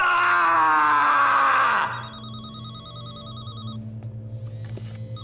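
Telephone ringing: a loud electronic ring tone sounds for about two seconds, then cuts off, leaving a faint tonal hum and low background noise.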